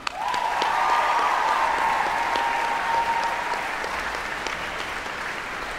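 A gala concert audience gives sustained applause to the choir: dense, even clapping from a large crowd that fades slightly toward the end, with a faint whistle-like tone near the start.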